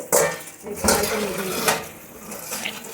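Dirty, dried-on dishes clatter and clink as they are handled and set to soak in a sink, with splashes of running water in short bursts and a brief hint of speech.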